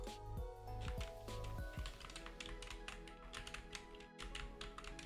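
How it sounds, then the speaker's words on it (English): Computer keyboard keys pressed lightly one after another in a quick, steady patter of close clicks and taps, running throughout over a faint background tone. "slightly press all the keys on our keyboard"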